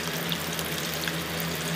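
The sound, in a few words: bluegill fish frying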